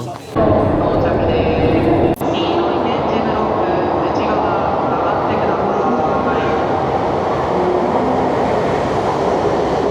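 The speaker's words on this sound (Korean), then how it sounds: "이 기차는 제 기차가 아닙니다." Train at a station in Sendai, Japan, a loud steady rumbling roar close by after a brief thud, with a voice heard under the noise.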